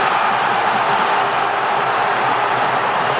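Stadium crowd at the 2001 England vs Greece World Cup qualifier, a dense, steady roar of thousands of fans filling the ground, sustained and loud throughout with no single voice standing out.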